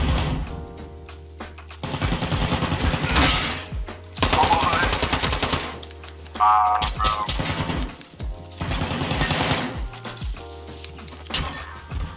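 Rapid automatic gunfire fills a Gunfight 3v3 video game match, with loud bursts of shots broken by short pauses and a constant background hum.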